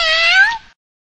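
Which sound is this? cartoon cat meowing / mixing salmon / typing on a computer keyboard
cartoon cat meowing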